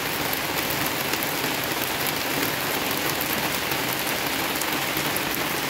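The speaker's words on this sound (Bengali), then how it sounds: "জোরে হয়ে গেছে এবার বৃষ্টি, জোরে" Heavy rain pours down steadily outside a home, a dense, even hiss of drops on surfaces that never lets up, close and loud with no voices.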